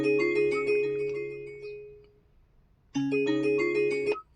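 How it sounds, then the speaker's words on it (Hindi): A melodic electronic ringtone from a Hyundai or Kia car infotainment system chimes a short tune, pauses briefly, then starts again; clear, moderately loud, with no talking. "आप रिंगटोन सुनिएगा इसमें कैसी आती है"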